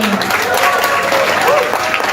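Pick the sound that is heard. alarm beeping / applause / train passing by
applause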